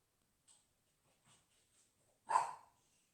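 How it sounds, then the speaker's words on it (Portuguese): A small dog gives one sharp, fairly close bark near the end, preceded by a few faint, soft yips or sniffs in an otherwise quiet indoor room. "Ó, meu cachorrinho deu até um oi."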